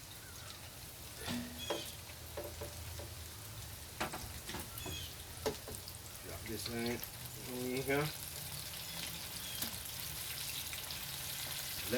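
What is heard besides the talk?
mustard chicken wings frying in a pan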